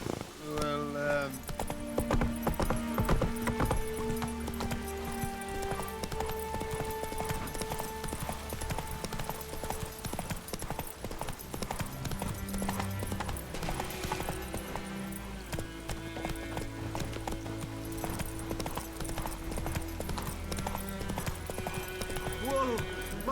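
A horse galloping in the video game The Witcher 3, rapid rhythmic hoofbeats running under a loud orchestral music score, with a voice speaking briefly.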